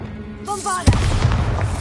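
In the Hogwarts Legacy video game, the Bombarda explosion spell goes off after a short chime-like casting tone, a sudden heavy boom followed by a rumbling, crackling tail.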